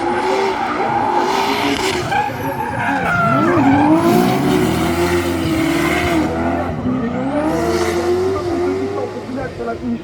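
A drift car skids through a corner at a drifting event, its tires squealing in long rising and falling wails as the driver makes a big handbrake correction, loud and close, with engine roar and commentary running over it.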